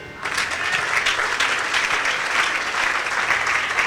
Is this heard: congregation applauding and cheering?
yes